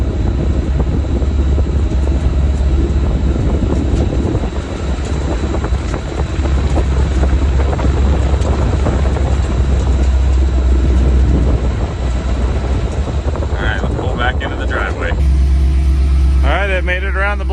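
A 1955 F1 Hill Billy Express truck runs on a test drive, a steady low engine drone and road rumble throughout, with a brief shift in tone near the end; a voice talks faintly at times.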